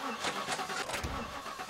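Car engine starting in The Last Stand: Aftermath, a quiet cranking churn with a few rhythmic turnover pulses before a low rumble catches, fairly faint and distant-sounding.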